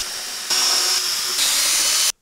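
A mixer drill runs at low speed, stirring tile adhesive in a bucket, giving a steady whirring hiss that grows louder partway through and then cuts off abruptly near the end.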